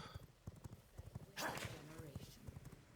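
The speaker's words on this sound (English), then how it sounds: "And then I'm gonna get on my horse and chase here." Horse hooves in the video game V Rising thud rapidly as the horse gallops, under a player's talk and a burst of combat noise.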